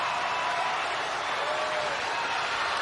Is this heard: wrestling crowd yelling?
yes